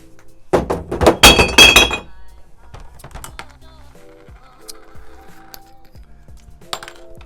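Glass bottles crash and clink into a recycling bin in a loud burst of breaking and rattling clatter, followed by quieter knocks and settling clinks of glass.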